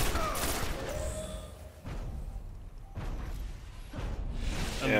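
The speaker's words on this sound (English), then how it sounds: "I shot a rocket, but apparently nothing happened" A rocket launcher fires in the video game Destiny, a few heavy whooshing thumps with booming blasts spread through the clip over a steady game background.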